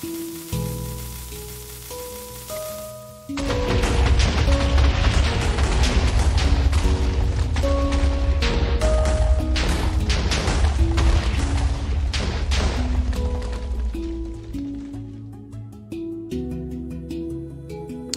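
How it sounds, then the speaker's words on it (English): Fireworks explode in the video game Bladecraft, a loud, continuous crackling burst of booms and pops that erupts suddenly after a quiet musical passage and fades toward the end while bright tones ring through. "It just became fireworks."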